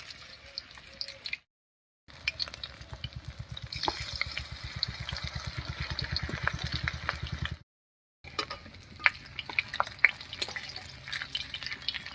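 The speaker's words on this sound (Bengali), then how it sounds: "এই ব্যাটারে খুব ভালো করে চুবিয়ে তেলে ভেজে নেব" Battered banana flower fritters deep fry in hot oil, a close, rapid bubbling crackle broken by two short silent gaps, with no one speaking.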